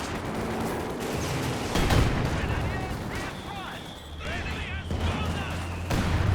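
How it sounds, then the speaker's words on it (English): Rumbling barrage of Katyusha rocket artillery and gunfire from the Company of Heroes 2 video game, loud and continuous with repeated booms and rushing streaks under ongoing commentary speech. "Those Katyusha rockets hitting nothing."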